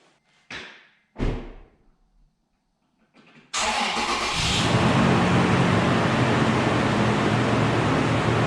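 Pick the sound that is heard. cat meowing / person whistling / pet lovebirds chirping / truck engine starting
truck engine starting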